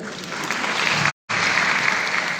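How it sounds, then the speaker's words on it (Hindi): Loud, sustained applause from a large audience filling an indoor hall at a Banaras rally, steady clapping with a very brief cut partway through and no voices. "जोरदार ताली एमटीजी के लिए।"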